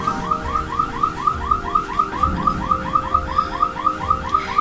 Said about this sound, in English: I'm so distracted by this car alarm.